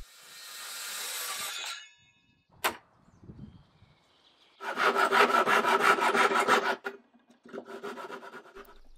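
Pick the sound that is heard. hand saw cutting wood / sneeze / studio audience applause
hand saw cutting wood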